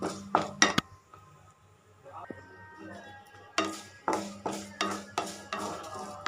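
A tempering for a red chilli and fresh tamarind pickle is stirred in a pan. Repeated rhythmic metallic clinks and scrapes sit over a faint sizzle, and a voice is heard briefly.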